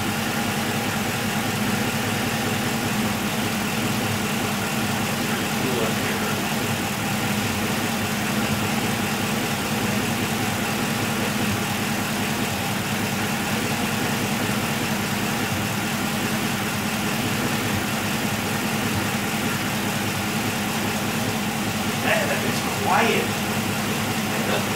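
The engine of a 1977 Camaro Z28 idles at an even pace during its first start after work on the top end. It makes a continuous, close rumbling drone that holds steady throughout.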